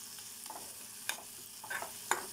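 Chicken curry frying in a pan gives a soft, continuous sizzle close by. A spatula scrapes and clinks against the pan a few times, with the sharpest knocks standing out.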